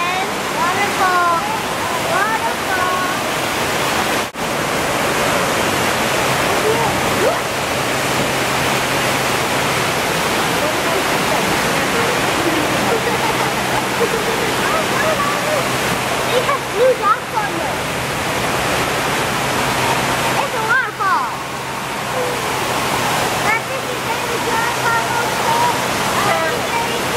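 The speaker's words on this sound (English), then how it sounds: "It is very loud in here because of a big water fountain." A big water fountain waterfall inside an aquarium roars as a loud, constant broadband rush of falling water, with voices faintly mixed beneath the noise.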